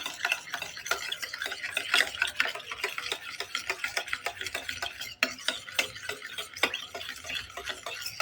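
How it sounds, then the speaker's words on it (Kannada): A homemade shampoo mixture with milk being stirred in a container, a close, quick series of light clicking taps and swishes repeating steadily for several seconds without any voices. "ಚೆನ್ನಾಗಿ ಮಿಕ್ಸ್ ಮಾಡಿ"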